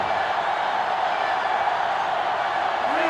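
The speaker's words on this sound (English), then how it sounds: "The sellout crowd is really making a difference now as these guys can't even call the play." A loud, dense stadium crowd roars continuously from an NCAA Football 07 video game, a sellout home crowd drowning the field in steady noise.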